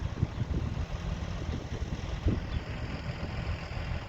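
A farm tractor engine that is overheating idles steadily with a continuous low rumble and rough mechanical chug, close and moderately loud, with no talking.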